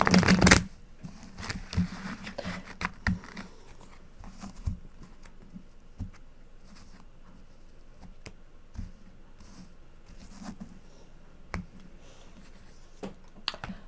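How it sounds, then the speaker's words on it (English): Tarot cards shuffled by hand in a burst of quick riffling at the start, followed by quieter intermittent card taps and light handling. "One more shuffle."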